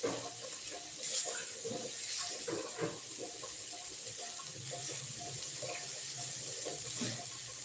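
Water pours steadily into a cooking pot of potatoes for a thin mango chutney, a continuous close hissing splash with light knocks.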